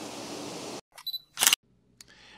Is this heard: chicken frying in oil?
no